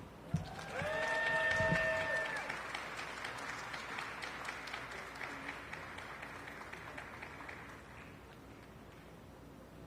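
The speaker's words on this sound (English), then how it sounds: "Another round of applause" An audience at a Latino Heritage Month celebration hosted by the Los Angeles mayor applauds, a broad wash of clapping that swells early with a voice over it and then continues softly and tapers off.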